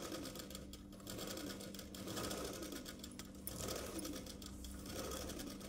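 A sewing machine stitches a collar piece onto an umbrella-style dress at a half-inch margin, a steady quiet whirring run of needle strokes with slight speed surges, no talking.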